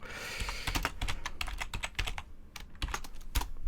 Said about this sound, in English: This is what happens when you type with a sore shoulder.